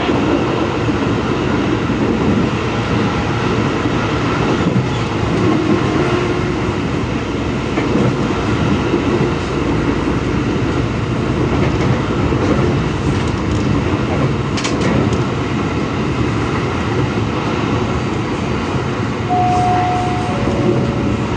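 A KRL commuter train in Jakarta rides on from Jatinegara station, a loud continuous rumble of the carriage interior with steady rail noise, faint rattles and a brief electronic tone near the end.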